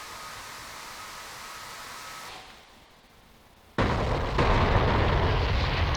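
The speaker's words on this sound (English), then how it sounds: "And watch these bombs go in." Bombs striking their target in the DCS World flight simulator: a steady broadband roar drops to a quieter lull, then a loud, dense explosive blast bursts in and rumbles on, close and heavy, with no talking.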